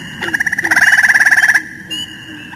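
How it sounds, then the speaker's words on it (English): Spring peepers and green frogs calling in a frog-call training recording, a loud close rapid pulsing trill lasting over a second, with short plucked notes before and a fainter note after. "So you can also hear peepers and you can also hear green frogs."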